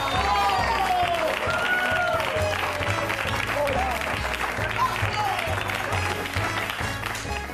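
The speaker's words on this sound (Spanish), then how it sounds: "¡Un aplauso para él!" A studio audience applauds a guest on a Spanish comedy show, loud and sustained clapping from a crowd with a steady rhythmic music beat running underneath and some voices mixed in.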